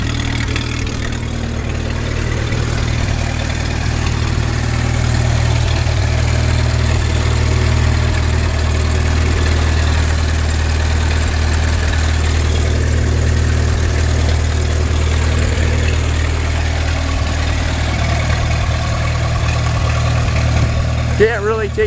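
A 1927 Farmall Regular tractor engine idles steadily with a low, even rumble throughout, while someone talks over it.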